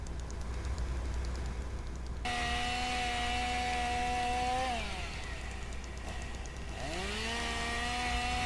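A chainsaw in a video game roars at high revs, drops to an idle partway through, then revs up hard again, loud and continuous with no talking.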